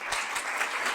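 An indoor audience applauds to welcome a speaker at a talk on solidarity, a brief dense burst of many hands clapping close together.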